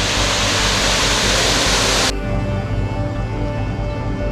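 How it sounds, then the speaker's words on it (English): The waterfall from Misery Creek at Misery Bay roars as a loud, steady broadband rush, then drops abruptly to a quieter, softer flow with a faint hum underneath. "is the waterfall that comes from Misery Creek"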